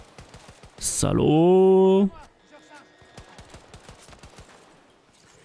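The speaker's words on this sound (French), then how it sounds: "Il me tire dessus." Battlefield gunfire in a zombie round-based mode: a burst of sharp shots crackles and repeats through the clip, following a loud sustained cry, with someone talking in French over it.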